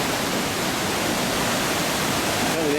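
A waterfall roars in wooded wilderness as a dense, unbroken wash of loud, close rushing water with no pauses, filling the whole scene.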